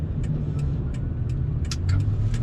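Low, steady rumble of a second-generation Toyota Tacoma pickup's engine through a TRD exhaust, building slightly as it accelerates, heard close up with a few faint ticks.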